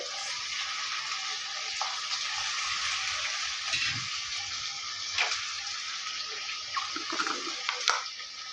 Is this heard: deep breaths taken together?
no